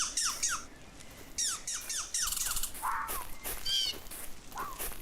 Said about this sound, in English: These birds, whatever bird these are, that you can hear right now, yeah, those ones, they live here for sure.